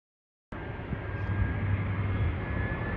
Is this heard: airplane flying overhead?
yes